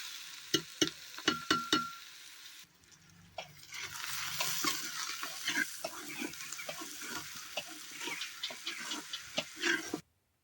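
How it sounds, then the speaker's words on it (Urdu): Onions fry on a mud stove with a steady sizzle, broken by repeated scraping strokes of a spoon stirring them in the pan, close and fairly loud. "گنڈٕ چھِ اسہِ اصل پٲٹھۍ فراے کرٕنۍ"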